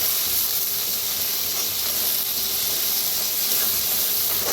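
Chopped tomato sizzles in a pan with roasted onion, a steady loud frying hiss that fills the whole stretch without pause.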